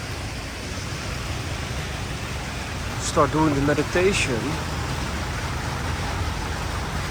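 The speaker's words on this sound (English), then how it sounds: "It's raining, by the way." Steady rain falls on a street in Phitsanulok, Thailand, making an even broadband hiss throughout, with a voice speaking briefly over it midway.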